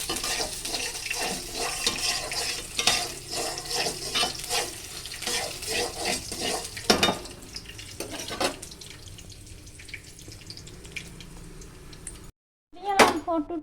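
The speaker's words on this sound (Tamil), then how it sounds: "இதான் ஆனியன் போட்டு அதை சேர்த்து நல்லா இப்போ ஃப்ரை" Chopped onion fries in a pan with a hissing sizzle and repeated stirring scrapes and clatter, while a person talks intermittently nearby; a sharp knock sounds near the end.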